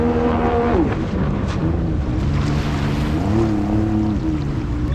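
Sea-Doo RXP racing jet ski with a new turbo runs loud and close on the water, its engine pitch dropping, holding steady, then climbing and easing again with no talk.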